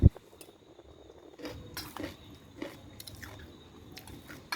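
Crunchy nuts being chewed up close, with irregular crisp bites and crunches spread through a quiet stretch.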